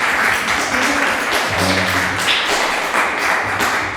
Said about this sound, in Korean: 자리 가까이 오시면 박수 환영하겠습니다.